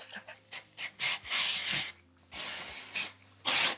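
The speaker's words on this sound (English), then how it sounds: "so now let's go in with the Yvette NYC. Oh my God, that's pretty. It is a glitter spray." Yvette NYC glitter spray hisses from an aerosol can in a string of close bursts, short puffs at first and then longer sprays, with brief gaps between.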